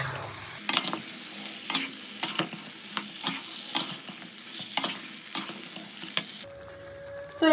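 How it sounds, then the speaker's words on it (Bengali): Chicken is stir-fried in a pan with ground spice paste and its water for a Bengali chicken do pyaza, giving a loud, close sizzle broken by regular scraping strokes of the spatula. "মশলা বাটা জল দিয়ে এবার খুব ভালো করে মশলার সঙ্গে চিকেনটাকে কষিয়ে নেবো।"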